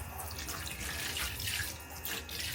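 Tap water runs steadily into a baby's bath, a close, continuous splashing rush with no break across the short stretch.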